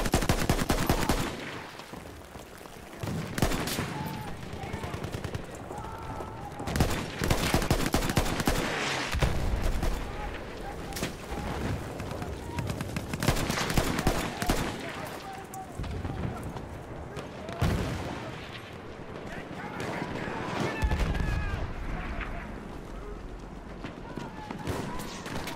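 Rocket gun blasts and rapid gunfire in a chaotic video game battle, loud bursts and booms repeating throughout under frequent shouted talk.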